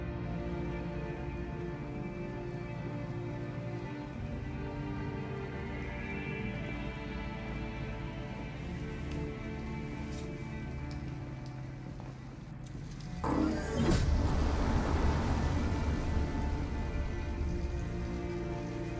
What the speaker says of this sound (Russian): на улице ливень